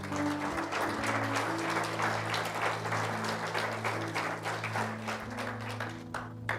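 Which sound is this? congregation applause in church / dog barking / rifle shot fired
congregation applause in church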